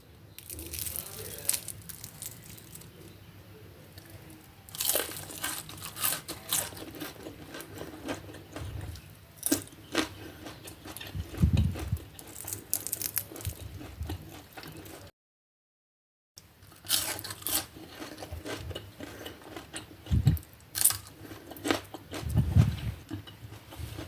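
Crisp, crunchy fried vegetable fritters made with spring onion flowers are bitten and chewed up close, giving irregular crackling crunches with a brief silent gap midway.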